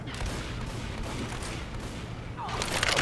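Dense, continuous rifle fire from an AK in the zombie shooter Left 4 Dead, loud and close, overlapping with muffled game noise and blasts.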